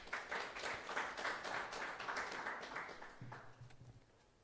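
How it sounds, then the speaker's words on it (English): An audience at a textile study report launch claps for several seconds, moderately loud at first and then thinning out, with a low voice starting up as it fades. "Please, a hand of applause."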